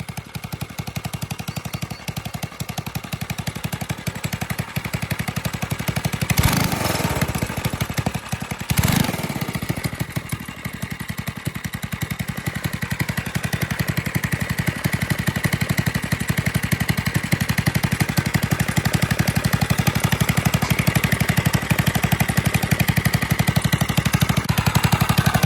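A drift quad fitted with a Nibbi carburetor runs continuously with a loud, buzzing, rapid-firing engine note, two sharp revving bursts early on, then a steady unbroken drone.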